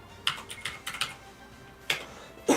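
Quick, light taps on a computer keyboard come in short irregular bursts with pauses between them, close and fairly quiet, with no talk over them.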